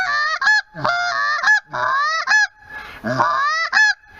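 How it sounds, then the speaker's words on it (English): A Haydel H2 short-reed Canada goose call blares a series of loud, drawn-out honks, about six in a row with short gaps, some ending in a sharp crack. "If you need a long honk"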